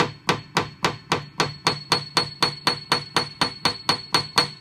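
Repeated even taps of a piano hammer on a string, about three per second, each a sharp ringing strike with a brief decay.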